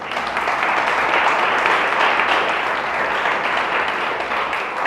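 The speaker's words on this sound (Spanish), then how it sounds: "Dele un fuerte aplauso al Señor." Loud, sustained applause from a church congregation, dense and steady throughout with no talking over it.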